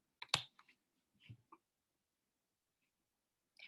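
Keystrokes on a computer keyboard as commands are entered into a text-based system: a quick cluster of clicks followed by a few isolated taps, then a long quiet gap before one more faint click.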